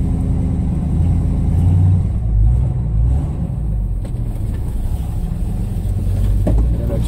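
A 1978 Chevrolet K5 Blazer rumbles loudly and steadily close by as its cold engine idles and then pulls away, with a low, rough, continuous drone and no talking.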